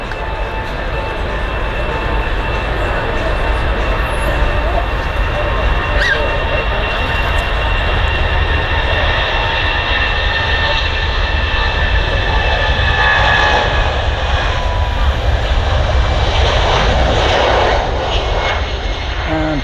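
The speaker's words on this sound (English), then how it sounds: "Takeoff speed of that particular aircraft is about 170 miles an hour." A jet airliner on its takeoff roll at Manchester Airport, a loud, steady roar of engines that swells and holds throughout with rising whine, close by and without talk.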